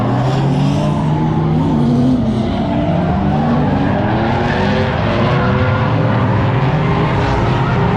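A manual Nissan G35 at a drift event revs hard, its engine note rising and falling in continuous loud sweeps with tire squeal mixed in, recorded close from inside the car.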